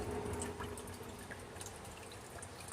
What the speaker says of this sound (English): my water fountain is still going strong